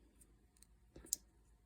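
The lock of an Ozark Trail folding knife snaps closed with a single faint, sharp click, just after a soft handling rustle, in an otherwise quiet room.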